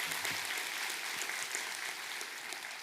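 A church congregation applauds the choir and conductor at a Sunday worship service, a steady, moderately distant patter of many hands that fades slightly toward the end.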